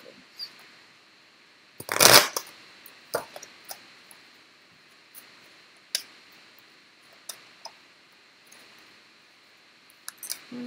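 Tarot cards shuffled to draw a clarifier: one short, fairly loud riffle burst, then scattered soft card taps and flicks, close by in a quiet room with no talking.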